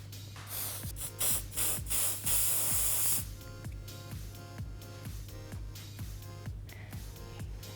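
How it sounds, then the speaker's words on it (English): Several quick bursts of hairspray sprayed onto a sleek, polished updo, loud hissing puffs in the first few seconds over a steady low hum and soft background music. "I'm just going to finish off the entire look with a lot of hairspray"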